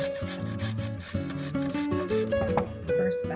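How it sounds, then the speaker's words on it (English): Carrots rubbed against a grater in quick, rhythmic rasping strokes, close up, with what sounds like music playing in the background. "Just grate the carrots up now."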